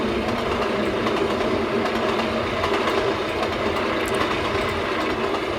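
Flying Scotsman steam locomotive and its carriages in the Trainz game, running at speed with a steady rolling roar and faint rhythmic clatter of wheels, loud and continuous throughout.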